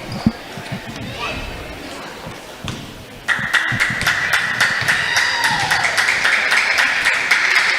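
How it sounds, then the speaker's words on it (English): In a high school boys basketball gym at Amherst, the student section claps in a steady rhythmic beat that starts abruptly midway and keeps going under a commentator's voice, following earlier ball bounces. "a little bit of clapping coming from the student section of Amherst"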